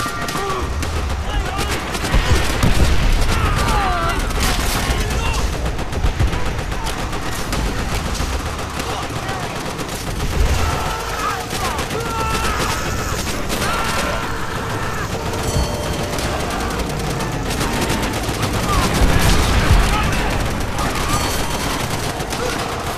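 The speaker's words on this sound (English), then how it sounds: "Japanese MG!" Sustained Japanese machine gun fire in Call of Duty: World at War, dense rapid bursts crackling continuously across a chaotic battlefield, with shouting voices and other gunfire mixed throughout.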